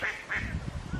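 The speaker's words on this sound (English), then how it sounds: "being upstaged by a duck." A duck quacks twice in quick succession, loud and close, followed by a low rumbling background with no speech.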